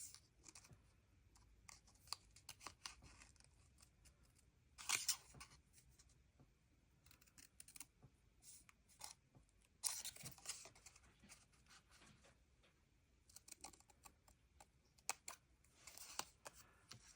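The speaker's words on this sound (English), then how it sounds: "And I'm going to take my scissors." Quiet, close snipping of scissors through paper during paper crafting, short crisp cuts coming in irregular bursts with pauses between.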